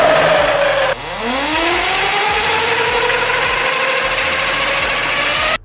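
An Altis Sigma electric bike motor spins up to full speed, a loud steady whine that drops in pitch after a brief cut then climbs and holds for several seconds before stopping abruptly.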